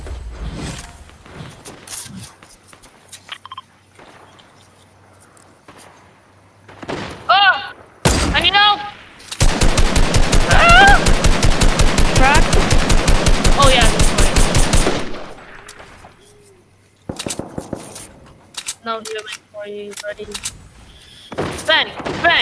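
Gunfire in Fortnite: scattered single shots and short bursts, then a loud, sustained rapid-fire volley lasting several seconds, followed by more sporadic shots, with players talking in between.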